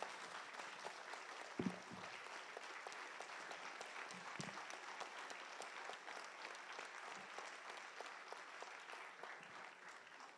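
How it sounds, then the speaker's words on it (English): Sustained applause from an audience honoring an author at a book release at the MLR Convention Center. The clapping is dense and even, lasts about ten seconds, sits at moderate distance, and has no talking over it. "So please join me in applauding the author of the book, Mr. T.M.S. Kumaran."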